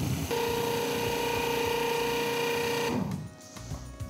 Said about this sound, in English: I am going to turn on this food processor and I'm gonna grind it all up together.